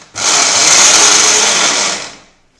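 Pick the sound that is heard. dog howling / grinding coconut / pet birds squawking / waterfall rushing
grinding coconut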